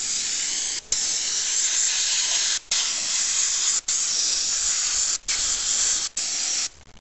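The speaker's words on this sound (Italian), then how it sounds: "prenderemo il compressore con questo accessorio qui e inizieremo a lavare il motore" Compressed air spraying soapy water with dish soap over a Minarelli AM5 engine, a loud close steady hiss broken by several short pauses as the trigger is released, with no talking.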